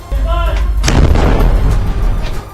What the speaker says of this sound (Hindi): जिसमें गाजा के सबसे बड़े अस्पताल में धुआंधार जंग होती नजर आई